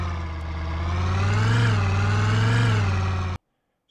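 A car engine in the video game Project Zomboid drones loudly and steadily, rising and falling slightly in pitch as it revs, then cuts off abruptly into silence.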